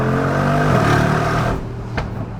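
Mercedes G63 Brabus driving in Sport Plus, a loud engine drone that drops off on lift-off, followed by a single sharp exhaust pop heard from inside the cabin.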